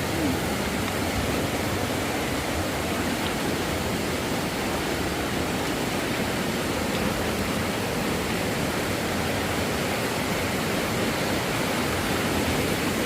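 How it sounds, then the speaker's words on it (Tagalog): Strong river current rushing near Cavinti Cave, a steady, loud, close wash of water that continues unbroken with no voices. "Sobrang lakas ng agos niya."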